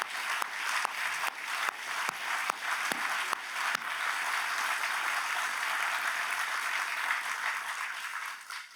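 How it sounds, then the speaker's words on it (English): An audience at a public service awards gala applauds. Dense, sustained clapping fills a large room, with a few sharp individual claps standing out at the start. "please stand for a robust round of applause"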